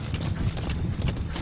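Horse hooves clip-clop at a steady gallop in the video game Metal Gear Solid 5, a muffled, rhythmic thudding at moderate level with no voices.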